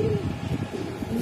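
Gribaz pigeons in a loft give low, throaty coos that overlap in a continuous rumbling murmur, close and fairly loud.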